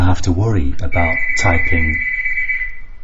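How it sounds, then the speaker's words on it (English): A doorbell rings once with a sustained electronic tone that holds and fades, cutting in over a man's speech and then ringing on its own for a couple of seconds. "that was my doorbell going there"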